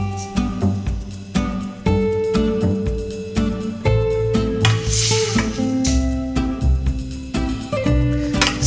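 Shrimp and zucchini sizzle in a pan of lemony sauce while being stirred, giving a continuous close frying hiss with occasional utensil scrapes under steady background music.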